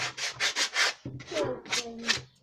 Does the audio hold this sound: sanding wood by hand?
yes